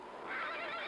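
A horse whinnies close by in a single loud, rising cry lasting under a second, spooked by the wind at night on a ranger station in the Lassie series.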